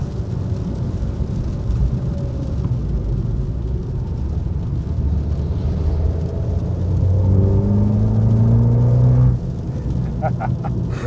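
Abarth 595 Esseesse (2019) with its 1.4 litre turbocharged four-cylinder engine and sport exhaust, a steady low droning rumble heard while driving that rises in pitch under acceleration, then drops back abruptly.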